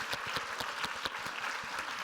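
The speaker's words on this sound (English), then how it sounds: "Can we get a big round of applause from everybody?" Steady applause from a crowd, dense clapping throughout with no voices standing out.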